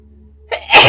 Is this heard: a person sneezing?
yes